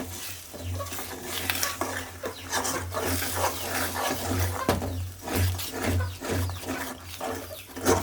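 A long ladle stirring egg fry in a pan, repeated scraping strokes in a steady rhythm over a soft background sizzle and low hum, fairly quiet and close.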